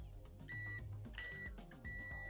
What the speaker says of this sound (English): This is like beeping right away